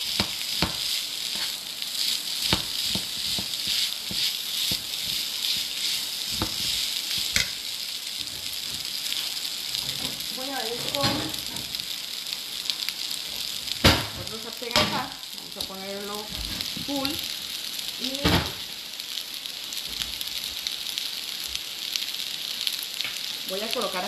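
Rice mixed with cheese frying in a pan, a continuous bright sizzle with repeated scraping and tapping from stirring, close and steady, with brief spoken remarks now and then.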